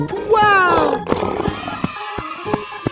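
A lion lets out a loud, rising roar at the start, followed by lower grunting and scattered thuds as the sound trails off.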